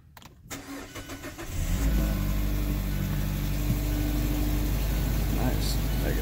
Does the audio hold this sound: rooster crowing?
no